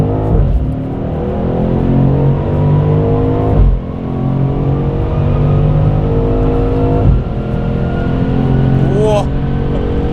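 A BMW M850i xDrive Gran Coupe with M Performance parts accelerates hard from up close, its engine note climbing through loud rising sweeps, with brief dips at the gear changes, and occasional excited voices inside the car.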